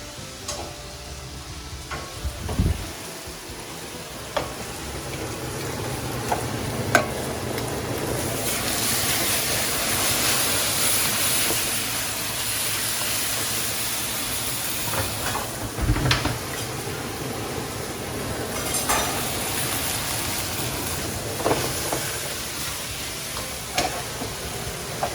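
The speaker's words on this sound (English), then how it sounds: "We're gonna start cooking these vegetables." Vegetables, carrots and beef frying together in a pan for Korean beef, a steady close sizzle with occasional stirring and scraping clatters throughout.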